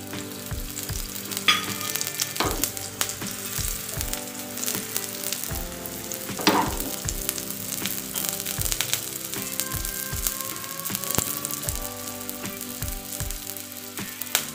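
Besan pudla, a chickpea-flour pancake, cooks in oil on a pan, giving a steady close sizzle with occasional soft scrapes and taps of a spatula, with no voices.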